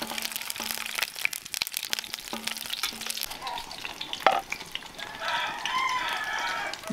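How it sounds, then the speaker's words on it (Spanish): Thin-sliced garlic fries in a pan in a backyard ranch kitchen, crackling and sputtering with scattered clicks and pops, a rooster-like call faintly behind and the sizzle swelling toward the end. "Y a poner los ajos a dorar, pero los rebané para que estén delgaditos y se adoren más rápido"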